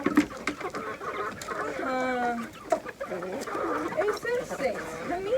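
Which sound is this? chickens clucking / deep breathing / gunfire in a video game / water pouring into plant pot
chickens clucking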